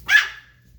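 A puppy gives a single sharp, loud bark up close, with a short trailing tail, during a playful moment with several puppies kept in a kitchen.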